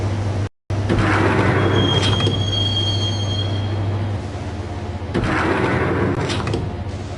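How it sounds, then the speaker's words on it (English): A subway train ride in the Max Payne video game: a steady loud rumble of wheels on rail with thin metallic squeals, a brief cut near the start, and no talk. "the train doors had already shut behind me, and I was in for the ride."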